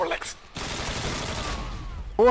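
A dense burst of rapid gunfire in Call of Duty: Modern Warfare 2 crackles steadily for about two seconds, bracketed by brief shouted voices at the start and end.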